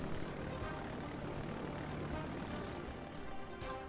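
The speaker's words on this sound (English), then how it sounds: "So now I'm going to go with the torpedo bombers." Torpedo bomber aircraft droning in the naval video game World of Warships Legends, a steady, dense propeller engine roar that stays constant throughout with no breaks.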